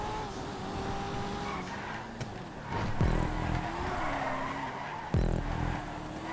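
A Coquette sports car in a multi-class GTA 5 race skids with two sharp, loud tire squeals over a steady engine drone, each screech sliding in pitch, close and prominent.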